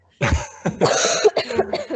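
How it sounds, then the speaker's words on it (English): A person coughs repeatedly nearby, a series of harsh, throaty hacks in quick succession. "He's coughing."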